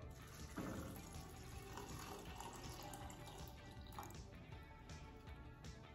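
Water runs steadily into a small cooking pot of nopales for several seconds, a continuous close splashing fill with no talking.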